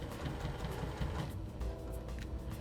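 Sewing machine stitching quilt binding, a steady fast mechanical whirring patter running continuously at close range, with no talking.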